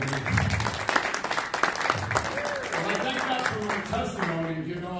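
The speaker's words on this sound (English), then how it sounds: "Let's give the Lord a big round of applause." A church congregation gives the Lord a round of applause, clapping steadily under a voice speaking and calling out over it.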